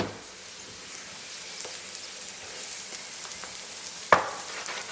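Flatbread pan-frying in oil gives a soft, steady sizzle at close range with scattered crackles and one sharp clatter near the end, no voices.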